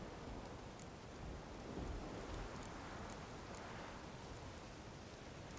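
Steady heavy rain with a low thunder rumble fills a stormy scene in the video game The Witcher 3, a constant loud wash of downpour with no voices.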